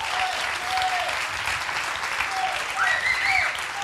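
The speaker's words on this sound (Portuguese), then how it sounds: "Edu Molina, uma salva de palmas." An audience applauds a history and philosophy teacher being welcomed to the front at a talk, steady dense clapping filling the room throughout, with a few faint cheers rising near the end.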